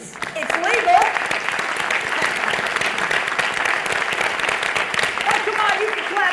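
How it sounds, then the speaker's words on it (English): A studio audience claps throughout a CNN town-hall discussion on LGBT issues. The applause is steady and moderately loud, with a voice talking over it. "Oh, come on, you can clap over there."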